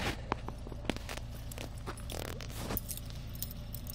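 Keys jangle and clink as they are picked up, a few sharp metallic taps and rustles, quiet and close, with no talking.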